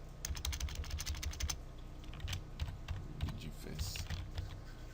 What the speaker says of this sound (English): I'm gonna type